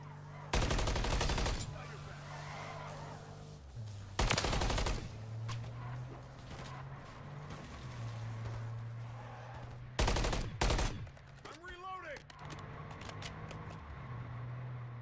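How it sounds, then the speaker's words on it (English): Sharp bursts of automatic gunfire in Call of Duty: Modern Warfare III, three or four loud rapid volleys spaced a few seconds apart over a low droning background. "Go, dude, I'm getting shot at."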